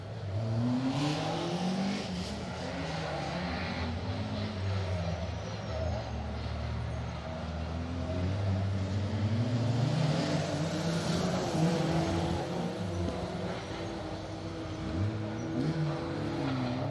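Rally cars race around the Cadwell Park circuit during a circuit rally stage, a steady loud engine roar with rising and falling revs as cars pass close by, continuous throughout.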